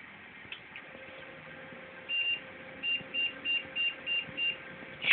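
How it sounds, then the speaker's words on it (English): A high electronic beep from a computer that won't turn on repeats about seven times in a steady, even rhythm, preceded by one isolated beep, over a faint hum. "Should computers beep like that?"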